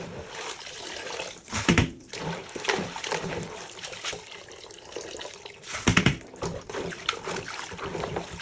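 Millet grains being washed in a bowl of water for a homemade kunu drink, with continuous sloshing and swirling plus a few louder splashes, close up with no speech.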